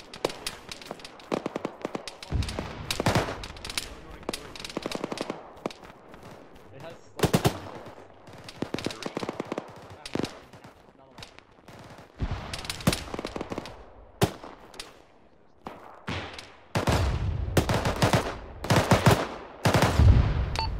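Suppressive gunfire in the Arma military game: repeated bursts of automatic rifle and machine-gun fire crack out in uneven clusters across the whole stretch, loud and close, with short pauses between volleys.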